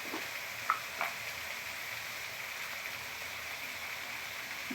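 Ground cumin and dry chili powder frying and being stirred in a pan for a banana-stem muri ghonto; a soft, steady sizzle runs throughout with a couple of faint spoon clinks early on.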